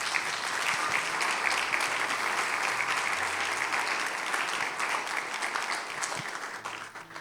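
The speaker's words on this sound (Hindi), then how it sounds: "जोरदार तालियां लोगों के लिए" A church congregation at a Palm Sunday service claps in a dense, steady roar of many hands that holds for several seconds before thinning out at the end, with faint background tones.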